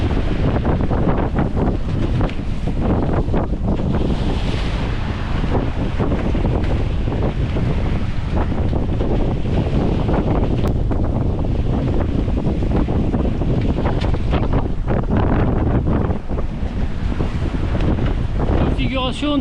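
Strong 26-knot wind roars over a sailing catamaran heading 45 degrees to the wind at sea between Malendure and Les Saintes, with constant loud buffeting on the microphone, gusty rumble and rushing water beneath.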